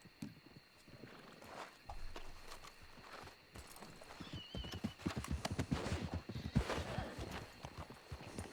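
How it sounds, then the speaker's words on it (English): A restless horse clip-clops on hard ground in uneven, quickening hoofbeats and lets out a whinny, close by, with faint voices in the background. "That horse is not having a good day. He's just getting his energy out."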